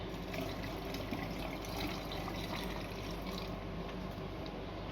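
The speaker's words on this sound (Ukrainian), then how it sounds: "Так, заливаю помідори." Steady pouring of water over tomatoes in a jar, a continuous splashing, gurgling stream that stays close and even throughout.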